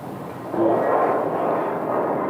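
A departing airplane roars steadily at Scottsdale airport, a broad engine rumble swelling slightly and holding at moderate distance with no talk over it.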